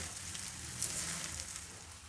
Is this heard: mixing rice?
yes